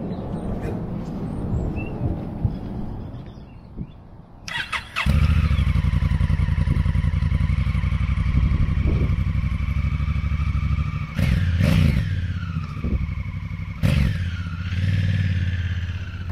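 A touring motorcycle on Route 66 in New Mexico starts up after a few seconds of quiet shuffling and clatter, then its engine drones loud and close, with several rising revs as the rider shifts and accelerates along the highway.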